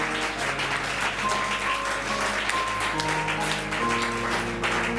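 A church congregation applauds God in a continuous loud wash of clapping, with music playing underneath.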